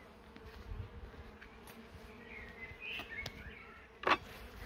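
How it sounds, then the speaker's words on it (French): Honeybees hum and buzz softly around a hive, a faint continuous drone with a sharp, closer buzz passing briefly near the end. "Il y a quand même pas mal d'abeilles."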